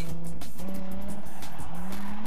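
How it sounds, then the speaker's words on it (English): A Toyota Supra drifts at a NASA event at Cloverleaf Mall in Virginia with a loud, sustained tire squeal and an engine roaring underneath, the screech rising and falling as it slides. "You don't see a lot of Supras drifting."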